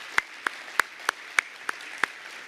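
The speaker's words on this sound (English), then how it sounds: "Please give a round of applause to our speakers." Seven slow, separate claps ring out at a workshop, each sharp and evenly spaced, with a quiet room between them and no voices.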